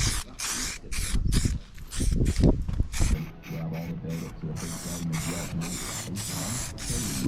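Spray can hissing in repeated short bursts while grey paint goes onto a Nissan Micra K11 valve cover, the bursts giving way to a steadier spray with a low hum and a voice talking underneath.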